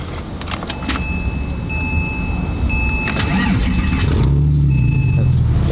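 A Porsche is started and settles into a loud, close idle with a deep exhaust rumble that grows slightly fuller, while a steady electronic chime tone sounds over it.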